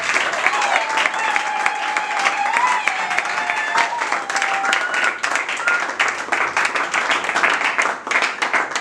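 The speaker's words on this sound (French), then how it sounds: "Est-ce que tu peux bien acclamer le Seigneur?" A church congregation applauds the Lord with steady, dense clapping that fills the room, while cheering voices and a raised voice carry over the continuous applause.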